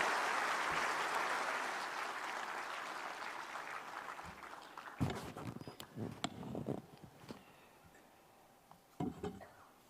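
Audience applause rolls through a crowd at a World Environment Day ceremony, dense and steady at first, then thinning into scattered claps and a few louder bursts near the end.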